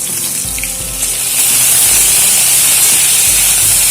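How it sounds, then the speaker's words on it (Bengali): Pointed gourd and potato pieces hit hot oil and fry with a loud, dense hiss and sizzle that swells after the first second and stays strong and close. "সবার প্রথমে আমি পটলগুলো দিয়ে দিলাম তেলের মধ্যে।"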